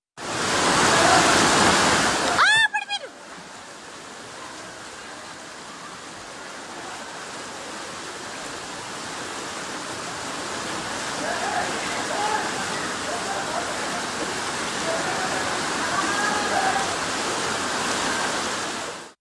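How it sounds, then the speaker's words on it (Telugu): Floodwater from heavy rain rushes along city streets in Hyderabad as a broad, steady roar. A louder burst of noise at the start gives way to the rushing flow, which swells again and stays strong through the rest. "శ్రీనగర్ కృష్ణానగర్లో రోడ్లపై వరద ప్రవాహం నదుల్ని తలపిస్తోంది"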